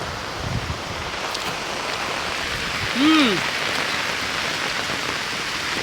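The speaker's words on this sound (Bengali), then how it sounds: "মুষলধারে প্রচুর পরিমাণ বৃষ্টি হচ্ছে।" A heavy downpour pours over a guava orchard in a steady, dense hiss of rain. A brief rising-and-falling whistle-like tone cuts through near the middle.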